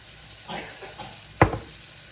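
Onion and ginger garlic paste hit a hot pan while frying for fish curry, giving a soft sizzle and then one sharp, loud burst of spattering before it settles back to a quiet fry.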